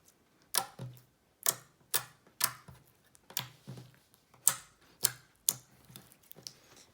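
Hot pink, perfume-scented clicky slime being squeezed and stretched, giving a quiet, close series of sharp pops and clicks at an uneven rhythm, about one or two per second.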